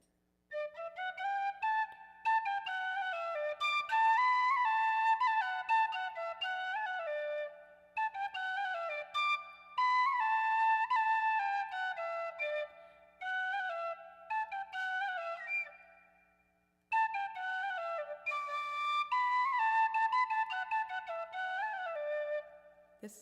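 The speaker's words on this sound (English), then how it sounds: "really practice that penny whistle" Penny whistle practice: a bright, clear solo melody played in phrases separated by short pauses, close and alone, with no voices.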